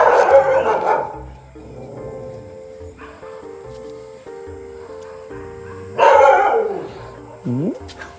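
The neighbour's dogs burst into loud, close barking, then go quiet with a faint hum underneath, then bark again in a second flurry that ends in a rising yelp.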